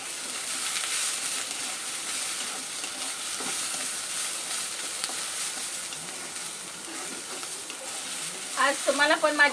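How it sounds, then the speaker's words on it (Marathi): Grated coconut roasts in a kadhai for a spicy black-masala chicken curry, stirred with a wooden spoon: a continuous loud sizzle and scraping that turns into sharper, busier stirring at the end. "आवाज खूप होत होता माझ्या कढईचा"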